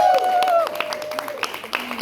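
A small gathering at an artists' house concert applauds for a local artist, with tonal sounds sliding across the start and individual hand claps rising and falling for about two seconds.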